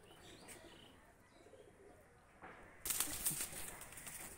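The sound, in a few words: pigeons cooing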